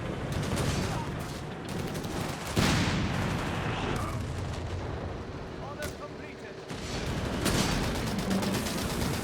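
Howitzer artillery and other gunfire in Company of Heroes 3 during a DAK versus USF match: dense, loud booming and rattling fire that runs throughout, with a commentator talking over it.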